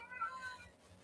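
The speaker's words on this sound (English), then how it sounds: "And I pardon my cat's howling today." Faint, drawn-out cat howl at some distance from an indoor pet cat, a wavering tonal cry over low background noise.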